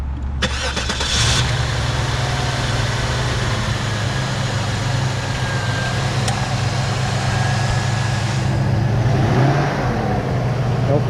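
A 1999 Cadillac Eldorado Touring Coupe engine starts and then settles into a steady, close, even idle hum that holds for about ten seconds, with a light rise near the end.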